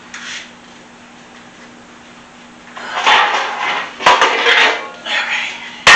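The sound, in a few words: baking pans clattering while fetching another pan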